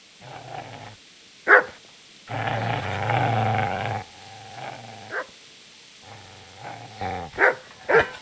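Dog barking and growling in the medieval video game Kingdom Come: Deliverance, with sharp separate barks, a sustained snarling growl in the middle and more barks toward the end, close and loud.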